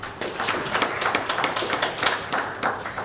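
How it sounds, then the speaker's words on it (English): Applause from an audience at a legal education conference in Kenya, a thin scatter of claps tapping along steadily for about three seconds, moderately close with no talk over it. "If we could give another round of applause, please."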